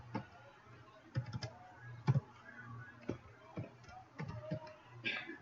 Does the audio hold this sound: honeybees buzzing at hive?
no